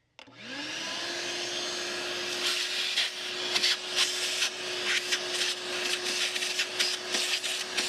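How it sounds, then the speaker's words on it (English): A shop vac starts up and runs steadily with a loud, close whining roar, with some rattling and sucking changes as it is used, and no one talks. "once again, a shop vac"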